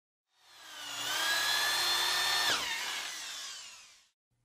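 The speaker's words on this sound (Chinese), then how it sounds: "成型之后打洞挖线槽" A power drill bores a hole through a bamboo strip being shaped for a Hakka string puppet, giving a continuous whining spin that builds up, holds for about three seconds, dips in pitch and then winds down, with no talking.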